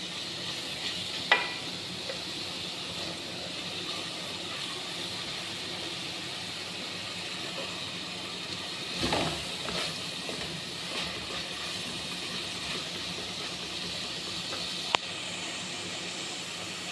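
Spices and tomato paste fry and get stirred in a pan for a chicken curry, giving a steady low sizzle and hiss with a few faint scrapes and clinks, and no talking.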